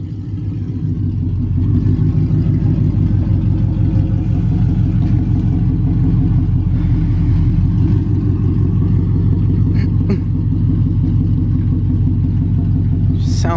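Ford Mustang fitted with a swapped Coyote V8, idling and creeping up onto a trailer, a loud, steady low throbbing rumble close by that holds even throughout with faint clicks on top.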